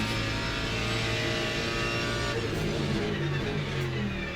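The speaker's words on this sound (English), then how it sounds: "I like the sound of this car. I really do. The acoustics are fantastic." A race car engine in the racing game Le Mans Ultimate roars steadily at high revs, close and loud, with a slight drop and shift in pitch near the end.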